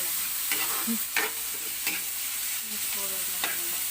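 Pork frying and being stirred in a pan for adobong sitaw, a steady close sizzle broken by several scraping stirs of the spatula, with no talking.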